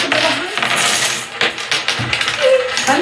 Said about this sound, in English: So we have silver coins, aged coins, and gold coins